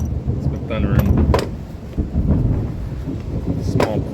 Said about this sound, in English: That was a pretty big lightning strike.